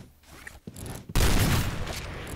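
Gunfire in the Point Blank shooter game: a couple of short muffled shots early, then a loud sustained burst of firing that carries through to the end, close and without talk.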